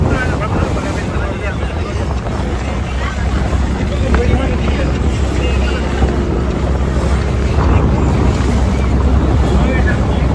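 A ferry boat's engine drones steadily over rushing sea water on the crossing from Mumbai to Elephanta Island, with strong wind buffeting and faint voices in the background.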